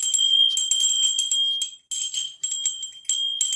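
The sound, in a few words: puja bell ringing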